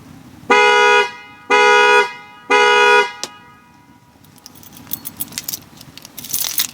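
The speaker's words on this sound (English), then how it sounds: "I hit the panic button." A car's horn blasts three evenly spaced long honks when the key fob panic button sets off the alarm, loud and near, followed by faint rustling and clicks.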